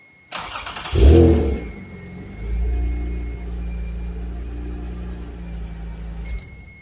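A Toyota MR2 SW20 is started with the key and clutch held down: a short starter crank, then the engine catches and settles into a steady low idle rumble, close up and without talk.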